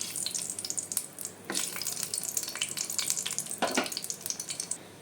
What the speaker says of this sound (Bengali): শুকনো লঙ্কাটাকে তেলের সঙ্গে একটু ভেজে নেব প্রথমে